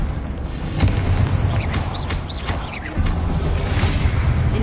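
Confringo blasting spell going off in a Harry Potter video game, heard as heavy booming explosions with whooshing magic effects over constant loud in-game rumble and clatter, with no talking.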